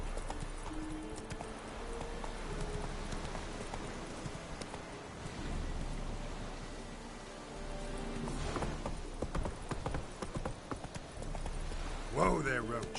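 Roach, Geralt's horse in The Witcher 3, gallops with a steady, rapid clip-clop of hooves, close and continuous, while a voice talks over the hoofbeats.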